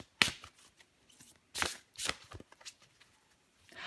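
Tarot cards being shuffled and drawn by hand, several crisp riffling and sliding bursts of paper, close and moderately loud, separated by brief quiet gaps, with no speech.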